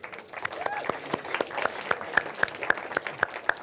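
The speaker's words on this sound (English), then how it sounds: "Round of applause, everybody." At a tech conference talk, the audience applauds a t-shirt winner: scattered claps build into a run of evenly spaced sharp claps near the microphone, with voices talking over them.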